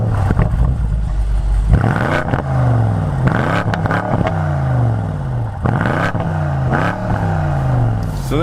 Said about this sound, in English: let me give you a little bit of the engine note, because that is truly something to behold